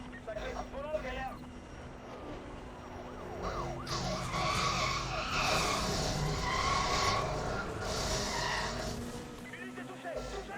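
Car tires skid and squeal in the racing game Need for Speed The Run during a police chase, with sirens wailing and engine noise throughout and a person talking over it.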